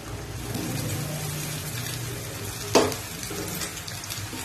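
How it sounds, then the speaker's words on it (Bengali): Boiled chow mein noodles tipped into a hot pan of vegetables and stirred, giving a steady sizzle with scraping and one sharp clatter partway through, close and moderately loud. "এখন আমরা এর মধ্যে পুরো চাউমিনটা ঢেলে দেবো"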